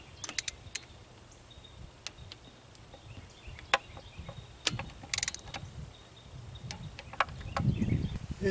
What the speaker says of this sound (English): we're going to torque this head down